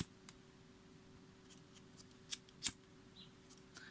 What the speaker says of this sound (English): And you can use pinking shears with fabric, and it's not gonna fray.